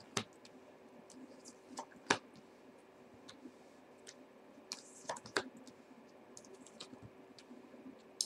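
Playing cards laid down one by one into a spread, giving soft scattered taps and light clicks, a few sharper slaps standing out over a quiet background with no talk.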